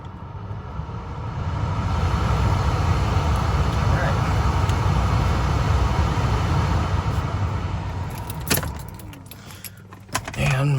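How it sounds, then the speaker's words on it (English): Cabin blower fan of a 2005 BMW 325xi, freshly fitted with a new final stage unit (blower motor resistor), roars as a steady broadband whoosh. Near the end the airflow shifts, with a few clicks and rattles as the speed changes. "we'll just see that we've got all our fan speeds"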